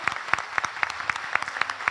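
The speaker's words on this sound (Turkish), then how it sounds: "Efendim kuvvetli alkışlarınız Ateş kara duman Maestroluğundaki saz arkadaşlarım için." Audience at a Turkish classical music concert clapping for the instrumental ensemble, a sparse, rhythmic round of individual claps heard fairly close and steady.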